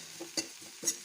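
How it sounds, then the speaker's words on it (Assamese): Oats being stir-fried in a wok, with a soft sizzle and a few light scrapes and taps of a spatula against the metal. "অকণমান ৰঙচুৱা কৰি ভাজিম অ'টছখিনি"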